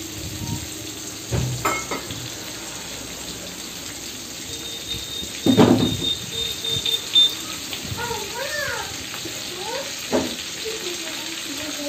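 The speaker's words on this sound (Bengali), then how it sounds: "তো তেলটা গরম হয়ে গেছে, এবার এর মধ্যে আমি পেঁয়াজগুলো কাটা পেঁয়াজগুলো আছে সেগুলোকে দিয়ে দেবো ছাড়ানো।" Sliced onions go into hot oil, bringing a steady frying sizzle with crackles and a louder burst midway, all under faint background noise and some indistinct voice sounds.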